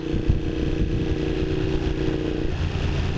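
A Honda CX500 cafe racer motorcycle ticks over outdoors at an old mine site, its engine a steady, loud, close rumble.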